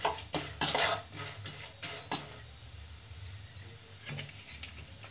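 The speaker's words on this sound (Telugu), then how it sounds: "కొంచెం వేగాక ఉల్లిపాయ ముక్కలు, పచ్చిమిరపకాయ ముక్కలు వేసుకుందామండి." Onion and green chilli pieces go into a pan, with several close metallic clinks and scrapes of a utensil against the pan at the start, then quieter scattered taps, no talking.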